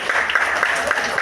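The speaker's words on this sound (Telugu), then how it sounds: "పెద్దవాళ్ళందరూ కూడా వాళ్ళే క్లాప్స్ ఇద్దామండి" An audience claps at a three-day public gathering, a dense patter of hands, steady and moderately loud over the short stretch, with voices mixed in.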